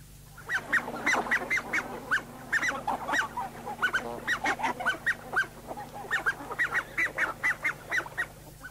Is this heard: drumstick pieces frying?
no